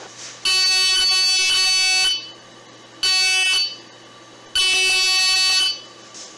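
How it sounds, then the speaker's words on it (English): Three loud, high-pitched electronic buzzer blasts, each lasting one to two seconds, separated by short pauses, with faint background hiss between them. "if the camera sees motion, the robot's buzzer should activate."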